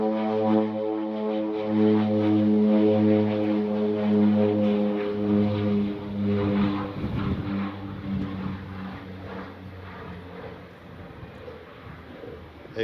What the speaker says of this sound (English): also an airplane taking off